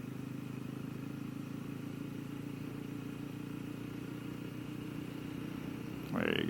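A steady, moderately quiet drone comes from a Genuine G400C motorcycle engine running in fourth gear during a ride, with a brief louder surge at the very end.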